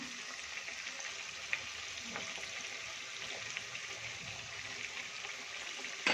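Ginger paste hits hot oil in a pan for kadhi pakoda and sizzles in a steady, bright hiss that holds for several seconds, with a few faint clinks from the pan.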